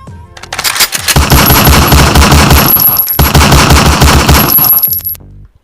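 A gunfire sound effect: loud, rapid machine-gun bursts that run almost continuously for about five seconds, with a brief break near the middle and no voices.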